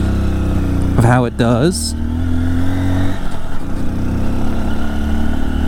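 A Honda trail motorcycle's engine hums steadily close by while a rider climbs a steep slope, with a brief rising rev early on before it settles back to an even drone. Someone talks throughout over the engine.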